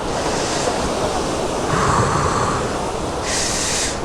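Waterfall water rushes near Athirappilly in Kerala, making a steady, loud broadband roar like surf with some wind buffeting the microphone. The sound holds continuously with slight swells.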